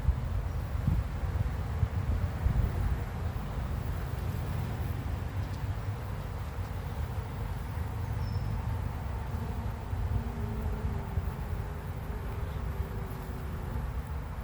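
Honeybees at a small nuc hive outdoors give off a faint, steady buzz under a low rumble of wind.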